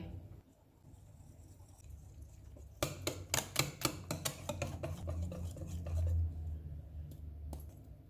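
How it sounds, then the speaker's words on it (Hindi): Wheat flour and maida being mixed together in a bowl, a burst of quick close scraping and tapping strokes with a spoon or hand against the bowl, then quieter rubbing. "इनमें 1 कप आटा डालेंगे, 1 कप मैदा, इनको मिक्स करेंगे।"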